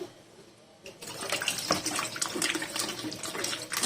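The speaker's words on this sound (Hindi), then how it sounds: "इसमें पानी डालती जाऊंगी और इसका पल्प निकालती जाऊंगी" Water poured by hand over soaking tamarind and dates to work out the pulp for a chutney, a steady close splashing and trickling that starts after a brief quiet moment and continues throughout.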